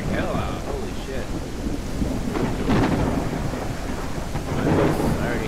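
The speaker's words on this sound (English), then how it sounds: "It is raining like hell out" Heavy rain pours steadily while thunder rumbles low and continuous, loud and enveloping throughout, in the video game No One Survived.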